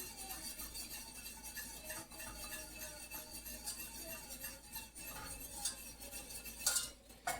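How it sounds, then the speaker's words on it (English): Whisking in a pot while cooking a rigatoni sauce: continuous light metallic scraping and clinking of a whisk against the pot, close but soft, with occasional sharper clinks near the end. "I'm going to turn it back up and keep whisking."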